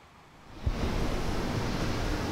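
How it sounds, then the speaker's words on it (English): A fancy shower head starts running, the flow swelling from quiet into a loud, steady rushing spray of water close to the microphone that holds evenly to the end. "Now I will put this shower head to the test."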